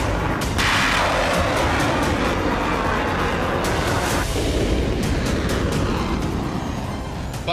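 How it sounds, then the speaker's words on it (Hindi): Missile explosions from a Pakistani strike on Iranian territory, as in news footage, form a loud, continuous roaring rumble broken by sharp, heavy bursts. "पाकिस्तान ने ईरानी जमीन पर कुछ इस तरह से विस्फोट किया।"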